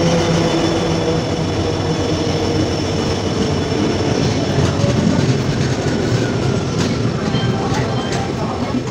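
A train pulling into a station: a loud, continuous rumble and roar of the rolling carriages, close by and unbroken throughout, with a faint hint of voices underneath.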